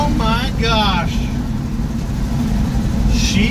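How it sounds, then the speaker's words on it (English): A 1971 Chevy C10 truck with a four-barrel carburetor and an electric fan drives along with a loud, steady engine drone heard from inside the cab, while voices talk and exclaim over it. "it has not wanted to accelerate like that as long as I've had the truck"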